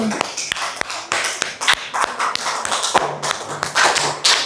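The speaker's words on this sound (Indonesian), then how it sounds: "Tepuk tangan semua buat kelompok ini" A group of schoolchildren claps nearby in a classroom, sharp irregular claps overlapping in a steady patter, with some voices mixed in.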